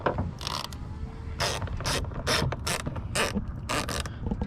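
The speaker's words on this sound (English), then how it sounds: "I got an additional extension, helping me get in here easier, and not have the head of the ratchet itself interfere" A ratchet with an extension works inside the door of a GMT800 truck, giving several rapid clicking bursts in an uneven rhythm, close and fairly loud, with no talking.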